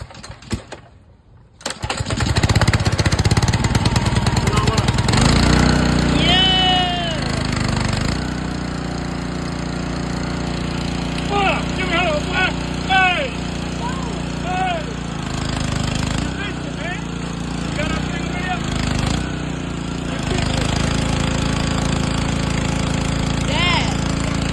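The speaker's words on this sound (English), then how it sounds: "I got the pressure washer running" A pressure washer's small engine sputters to life after a quiet start. It then runs loud and steady nearby for the rest of the time, with occasional voices over it.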